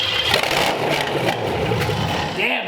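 A cold Ford 289 V8 in a 1947 Ford fires up after starter spray and runs with a loud, rough rumble close by, steady for a few seconds.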